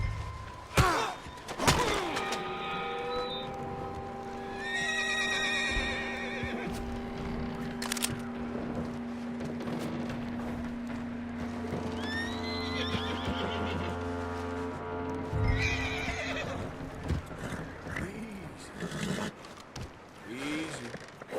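A horse neighs and whinnies loudly several times, with hoof clops and thumps, a scene in Red Dead Redemption 2 with voices nearby.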